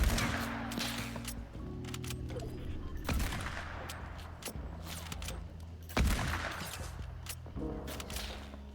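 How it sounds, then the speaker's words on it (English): Repeated sharp rifle cracks from a sniper in the Fortnite Chapter 2 Season 3 game, strong shots at intervals over a steady droning musical bed. "Oh, we got someone sniping here."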